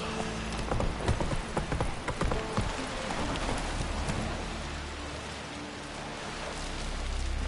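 Hooves of Geralt's horse Roach clip-clop at a gallop in The Witcher 3, quick irregular thuds running close over a steady rain-like wash, with no talk.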